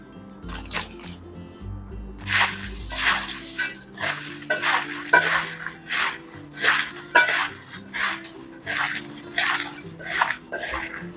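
Homemade crunchy chivda is tossed and stirred in a bowl. Dry rustling and light clinks repeat in an irregular rhythm over soft background music.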